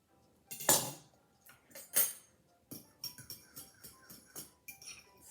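A spoon clinks and scrapes against a bowl while butternut squash salad dressing with sage is stirred, a few louder knocks up front, then a steady run of quick close clinks, with no talking.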